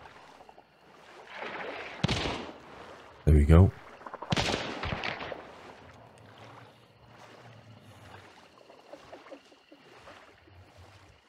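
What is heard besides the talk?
gunfire in the video game Hunt Showdown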